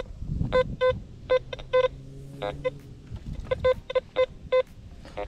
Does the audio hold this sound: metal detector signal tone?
yes